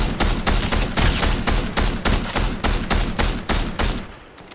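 Rapid, loud gunfire crackles through a Fortnite build fight, dense bursts of shots and impacts overlapping almost continuously before trailing off at the end.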